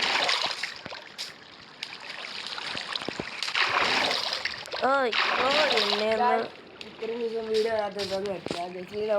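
A splash into water in the Minecraft video game, heard amid steady game noise while a person talks loudly over it.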